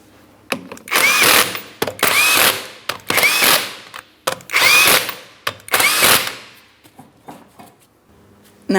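A power tool runs 19 mm lug nuts onto a wheel of a 2003-2007 Cadillac CTS in five loud, close bursts of whirring, each about a second long with short pauses, then quiet.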